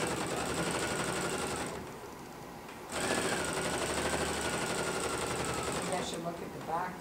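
Pfaff sewing machine with a binder attachment stitching soft flannel for a baby's hooded bath towel, running in fast steady bursts close up with a brief pause mid-way before it resumes, then stops near the end.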